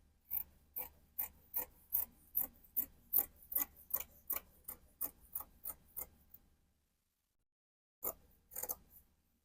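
Scissors cutting dress fabric for a milkmaid dress, about fifteen crisp, evenly spaced snips, close and quiet, then a pause and a final short burst of two snips, no talk.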